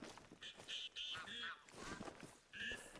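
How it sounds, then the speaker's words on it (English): A common goldeneye duck calls in theHunter Call of the Wild, giving several short, nasal, harmonic calls in a loose series, moderately close and fairly quiet, with no talk over them. "Golden eye."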